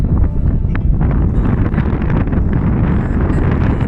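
Strong wind buffets the microphone in a nature reserve, a loud continuous rumbling roar with gusty fluctuations throughout and no speech.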